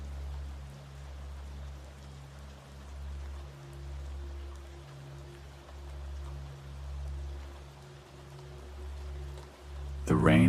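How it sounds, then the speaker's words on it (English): Steady rain falls over a flowing river, a soft, even hiss layered with a low hum, ending in a brief louder burst. "The rain above and the river below join together, weaving a harmony that cradles your mind."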